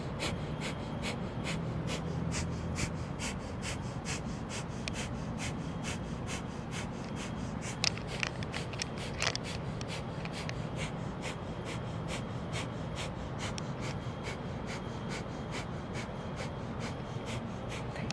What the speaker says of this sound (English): and breath of fire